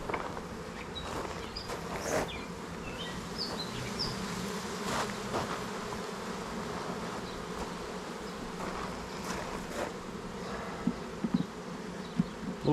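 Honeybees from a nuc hive buzz steadily and densely close by, a continuous insect drone with individual bees whining past now and then.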